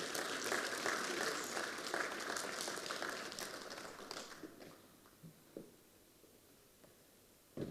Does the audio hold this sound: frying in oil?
no